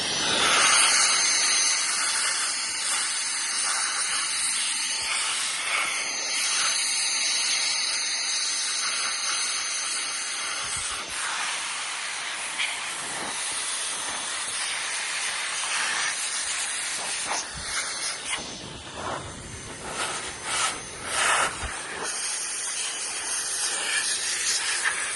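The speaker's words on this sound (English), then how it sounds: "I will give it a little bit of a compressed air blow" Compressed air blasts into an opened Janome Skyline S7 sewing machine with a loud, continuous hiss that roughens and sputters in short bursts toward the end, close up and without speech.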